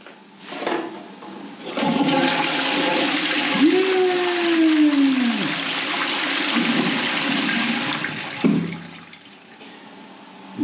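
A newly installed toilet in a bathroom under renovation, its tank mounted higher than usual on improvised piping, flushes with a loud rushing gush followed by a refilling hiss and gurgle, close by, with no speech over it.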